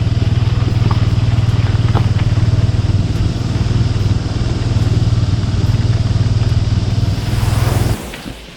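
A scooter engine drones steadily at close range while riding along a road, then cuts out near the end, leaving a quieter ambience.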